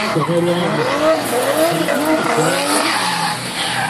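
Drift cars in a Powerdrift Semi Pro 2014 race slide side by side at 120-160 km/h, producing loud, wavering tire screeches over roaring engines that rise and fall continuously.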